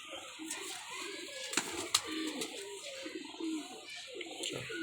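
Domestic pigeons coo softly nearby in a quiet setting, low rolling calls repeating through the clip, with a few faint clicks and flutters.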